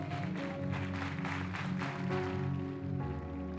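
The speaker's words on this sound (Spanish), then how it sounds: "Dele un aplauso al Señor." A church congregation claps along in a dense, continuous patter of applause, mixed with music playing underneath.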